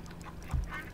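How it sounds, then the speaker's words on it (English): A single short duck quack sounds amid the farm animals of the video game Farm Together 2. It is brief and moderately close, with faint background ambience. "We've got ducks."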